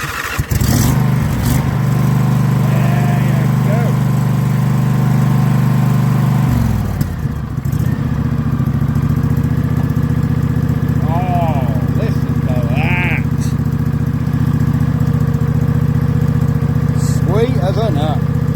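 Old 25-year-old V-twin lawn tractor engine, running on bad fuel, churns and fires, briefly dies, then settles into a loud, steady running drone close by, with a person speaking in places.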